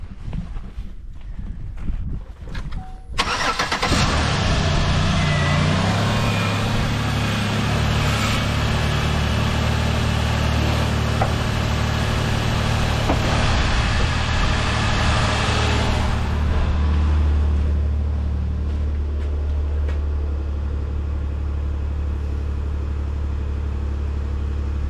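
Engine of a 2011 Chevy Impala with an antifreeze leak: it cranks briefly, fires and settles into a loud, steady idle, with wind buffeting the microphone. The tone eases slightly toward the end.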